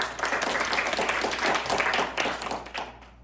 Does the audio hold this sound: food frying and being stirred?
no